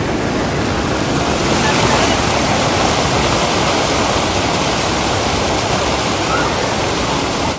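Fast, chilly river water rushes at Banganga on the Vaishno Devi pilgrimage route, a loud, dense, unbroken roar heard close up.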